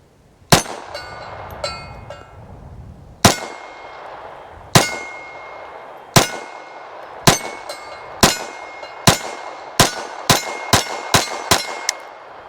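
SIG P322 .22lr pistol fired at a target 10 yards away, about a dozen sharp, ringing shots, spaced slowly at first and then coming quicker toward the end, with no voices.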